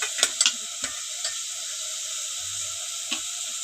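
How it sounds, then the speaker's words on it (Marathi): Chicken curry masala stirred in a pan, heard as steady frying sizzle with a few sharp scrapes and clinks of the spoon near the start and again later. "मस्त मिक्स करून घेऊया."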